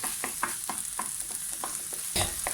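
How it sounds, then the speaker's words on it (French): A tomato stuffing for Italian-style stuffed babouche zucchini frying in a pan, a steady soft sizzle broken by regular scraping strokes of a spoon stirring it, close and alone. "je remonte un petit peu le feu, je mélange de temps en temps, et on va laisser cuire tout ça"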